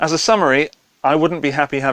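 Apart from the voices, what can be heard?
No distinct noise like a dog, phone or traffic.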